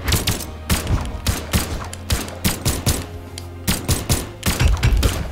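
Gunfire in the video game Brawlhalla, rapid bursts of sharp shots in quick irregular clusters, loud and close, with no talk over them.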